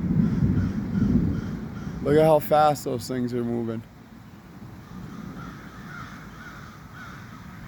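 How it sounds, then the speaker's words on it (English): Crows caw harshly in a quick burst of calls as tornado clouds move in fast over Swanzey, New Hampshire, with wind noise across the microphone and a person talking nearby. "The birds are going crazy."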